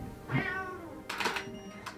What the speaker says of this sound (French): Les elfes ils ont pas des chats. Ça sert à rien de miauler.